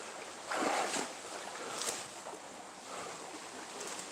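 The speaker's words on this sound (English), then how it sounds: "You can get an auditory overload with noises from a creek" Creek water rushes in a soft, continuous hiss at night, faint and steady with small swells in level and nobody speaking.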